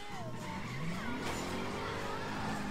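Car tires squeal and skid under full throttle in Driver: San Francisco, a loud rising screech sweeping upward over a revving engine, then a sustained scrubbing whine as the car slides.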